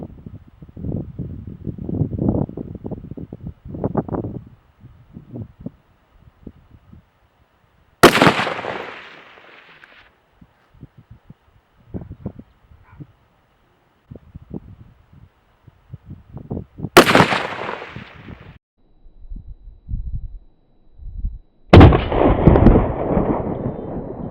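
A POF P308 rifle fires at targets outdoors in a 10 mph wind, three sharp, loud shots spaced several seconds apart, with gusty wind rumble and handling noise in between.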